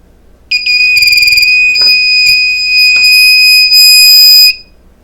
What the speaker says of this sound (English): Oh, same thing with the buzzer.